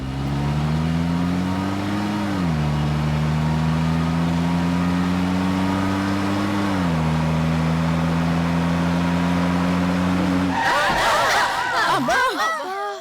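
A bus engine hums loudly with a steady drone that rises and dips slightly, then cuts out as the bus stalls on its own, followed by excited voices.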